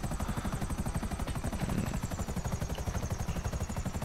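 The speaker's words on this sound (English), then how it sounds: "Oh, that's at the helicopter. I don't need that helicopter." A helicopter in GTA 5 Online, its rotor beating in a fast, even chop that holds steady and loud throughout.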